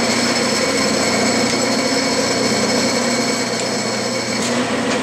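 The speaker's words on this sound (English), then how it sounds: "Now I'll put the quarter inch bit in, and I'm going to drill in" Steady, loud machine whine with a constant drone and high-pitched hum, a lathe running continuously while a quarter-inch drill bit cuts a bore 1 1/4 inches deep.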